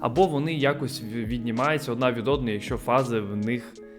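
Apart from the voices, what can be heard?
No everyday noise stands out behind the speech.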